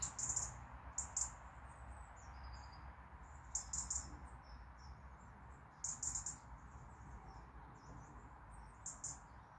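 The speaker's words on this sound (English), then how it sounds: "It's beautiful sitting here sometimes listening to the birds." Faint, high bird chirps from a nature reserve beside an allotment come in short bursts every second or two over a soft, steady outdoor hum.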